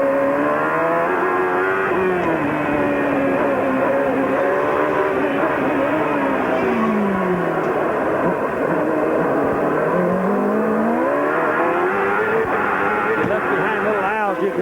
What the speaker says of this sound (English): I just like listening to the motors here